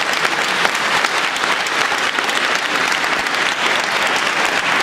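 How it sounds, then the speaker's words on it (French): Steady, dense applause from an audience at a science-fiction festival award ceremony, the Prix des Utopiales 2011, filling the room evenly and loudly with no break and no speech over it. "Vous pouvez l'applaudir."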